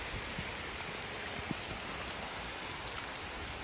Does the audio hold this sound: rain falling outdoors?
yes